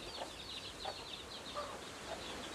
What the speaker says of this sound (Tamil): இங்கே குஞ்சு இருக்குது பாருங்க